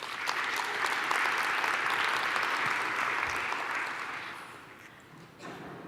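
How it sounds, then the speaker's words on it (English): A conference crowd at a JavaScript event claps in sustained, dense applause that holds steady before tapering off near the end. "could we get a round of applause for everyone who helped put this together?"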